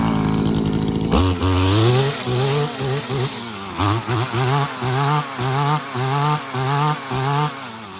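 A Stihl FS74 string trimmer's two-stroke engine fires up after a carburetor replacement, then runs loud and close with a steady buzz broken by rhythmic revving pulses.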